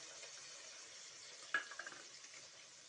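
Fish and mustard seeds go into hot oil with curry leaves and cumin in a pan, giving a soft steady sizzle that jumps briefly when the food lands, then a few popping crackles.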